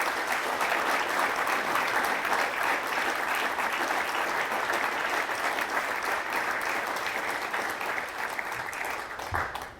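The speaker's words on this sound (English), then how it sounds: "I think this new logo deserves a good round of applause" Sustained, dense applause from a large audience at an Arkansas economic developers and chamber winter conference, steady and loud for nearly ten seconds before tapering slightly at the end.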